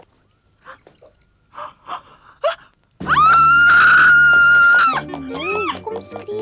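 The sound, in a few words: child screaming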